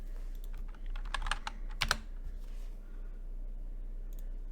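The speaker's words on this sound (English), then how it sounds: "Actually, let me just type this." Typing on a computer keyboard, a short burst of quick, crisp key clicks up close, with a couple of louder taps, over a low steady hum and no speech.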